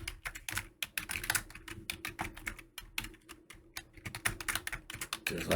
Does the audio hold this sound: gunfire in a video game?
no